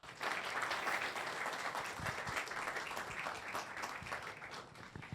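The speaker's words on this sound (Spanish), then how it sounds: "Ramón, un aplauso para él." Seminar audience applauding steadily for a speaker, dense clapping sustained at even strength throughout, with no talk over it.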